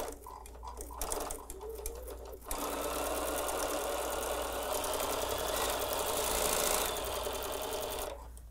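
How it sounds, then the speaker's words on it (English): A sewing machine chain-pieces flying geese quilt blocks, starting with a few short bursts of stitching and then running in one long, steady whir at close range before it stops near the end. "Did a little bit of chain piecing there."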